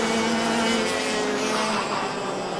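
A race car drifts through the final corner of a track, a steady loud engine roar with a sustained tonal whine and a hint of tire noise, holding constant and close throughout.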